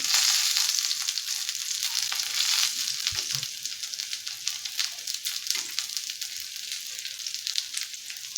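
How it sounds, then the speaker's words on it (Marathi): Masala-stuffed okra pan-roasting in a little oil gives a steady, close sizzle with a few soft scrapes and knocks as the pieces are gently turned, no voices. "या साईडनेही आपल्याला भेंडी छान भाजून घ्यायची आहे अगदी हलक्या हाताने भेंडी उलटून घ्यायची"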